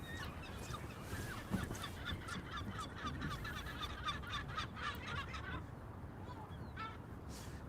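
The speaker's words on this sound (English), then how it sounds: "Now we have the seagulls passing over as well," Seagulls calling repeatedly overhead, a series of harsh squawks that fade toward the end over constant background noise.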